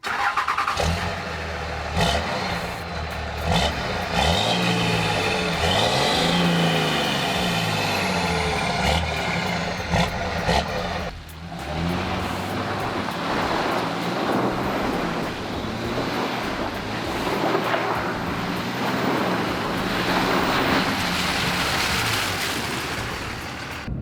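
Iveco Daily van with a 6-litre turbo diesel engine driving, a steady loud engine drone and road roar heard from inside the cab throughout, with the engine note shifting as it pulls along.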